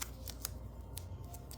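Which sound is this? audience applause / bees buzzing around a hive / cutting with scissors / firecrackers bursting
cutting with scissors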